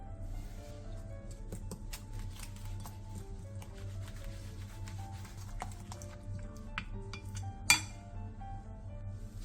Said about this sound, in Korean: 볼에 대파와 고추를 넣은 뒤 부침가루 2스푼, 다진 마늘 3분의 2티스푼, 계란 1개, 소금 3분의 1티스푼, 파슬리가루, 물 3분의 1컵을 넣고 골고루 섞어 굴전 반죽을 만들어주세요